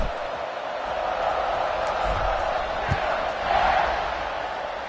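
A stadium crowd roars in a college football video game, a steady broad wash of cheering that swells briefly near the end, with a commentator's voice faintly mixed in.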